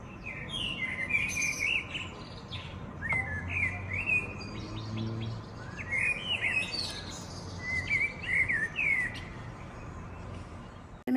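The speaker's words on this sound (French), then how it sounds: "Écoutez-moi ces petits merles." Several blackbirds sing outdoors on a hot sunny day, bright warbling phrases recurring every second or two, moderately near, over a steady low hum of background noise.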